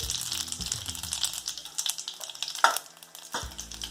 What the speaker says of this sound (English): Now I'm going to add some mustard seeds, cumin seed,